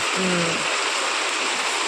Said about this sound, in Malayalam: അപ്പോൾ ഇതേ നല്ല മഴയാണ് കേട്ടോ ഇവിടെ നല്ല മഴ